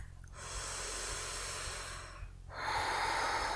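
Slow, deep yoga breathing close to the mic: a long airy inhale followed by a pause and a stronger hissing exhale, steady and unhurried against quiet room hum.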